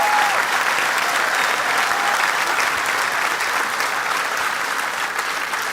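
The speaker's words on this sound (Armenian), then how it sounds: "մի հատ դուք ծափահարեք ենք։" A stand-up comedy audience at a New Year show breaks into loud, sustained applause. It is a dense wash of clapping that holds steady from start to finish.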